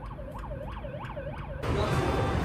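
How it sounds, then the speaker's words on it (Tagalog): A wailing ambulance siren sweeps up and down repeatedly in traffic, fairly close, then gives way abruptly to a louder burst of broadband road noise. "Oo, may ambulance."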